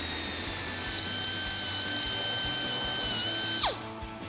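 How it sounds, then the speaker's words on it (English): A whiz wheel fitted with a flap disc grinds burrs off freshly cut studs during a 2021-2023 Bronco leveling kit install, a steady, loud, high whine held close up that tails off sharply at the end. "grab a whiz wheel with a flap disc or sanding pad, whatever you got. And go ahead and just clean up all the burrs on your studs"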